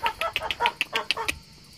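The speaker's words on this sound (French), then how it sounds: "Et voilà, deux oies." Two geese honking in a quick series of about nine nasal calls, fairly close and loud outdoors, stopping abruptly with a faint background hiss after.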